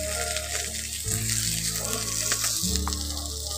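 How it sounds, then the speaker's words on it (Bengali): Cut cauliflower fries in a pan while being stirred for a stuffed singara, giving a steady, moderate sizzle and hiss, with low tonal background sounds shifting underneath. "এখন নাড়াচাড়া করে ফুলকপিগুলোকে ভালো করে ভেজে নেব।"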